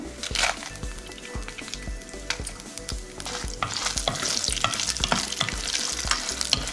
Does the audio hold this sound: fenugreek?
yes